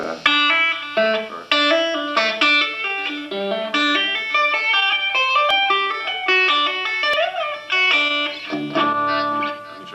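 A distorted electric guitar plays a slow, finger-picked line with slides, hammer-ons, pull-offs and smooth note changes, alone and fairly close.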